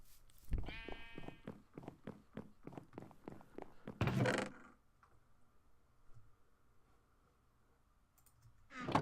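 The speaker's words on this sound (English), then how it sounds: "Shut up, sheep." A Minecraft sheep bleats once near the start, in the Sky Factory 3 modpack, amid rapid rhythmic clicking, followed by a loud burst, a quieter humming stretch and another sharp sound at the end.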